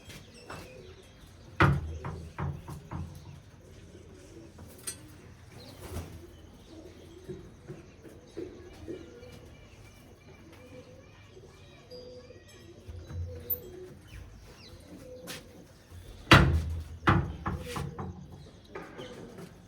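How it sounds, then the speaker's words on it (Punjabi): Pigeons at a breeder's loft coo in soft, intermittent bursts, with a couple of louder flurries near the start and end, over a quiet background with occasional faint handling noise. "ਲੋ ਜੀ ਇਹ ਆ ਗਿਆ ਕਬੂਤਰ"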